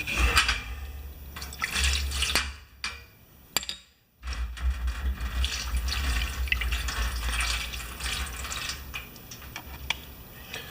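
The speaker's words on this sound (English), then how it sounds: "Let's just pour water in there." Water is poured into an old Yard Machines lawn mower, splashing and trickling close by in a busy, uneven stream, with a brief pause midway before the pouring resumes.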